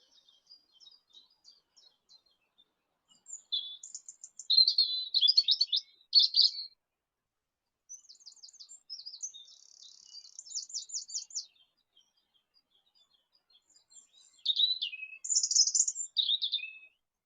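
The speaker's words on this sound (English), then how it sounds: "For such small birds, don't they make a lot of noise?" Small birds chirping and trilling beside the River Barrow, bright high calls coming in three loud bursts separated by quieter scattered tweets and short pauses, with no voices.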